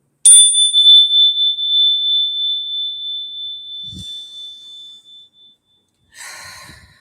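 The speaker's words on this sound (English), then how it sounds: "you can go ahead and exhale when I ring the bell" A bright bell is struck once and rings with a long, clear shimmering tone that slowly decays; soft breaths follow.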